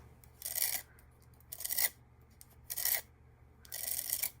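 A palette knife held at an angle scrapes mixed media paste off a surface in four short, dry, rasping strokes, close and quiet with pauses between them.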